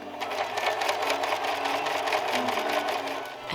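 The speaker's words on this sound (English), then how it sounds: "sew gathering threads all along the bodice front ruching pieces" A sewing machine runs steadily and close up, its rapid needle rhythm continuous for several seconds while gathering stitches into silk ruching for a bodice of an 1837–42 style dress.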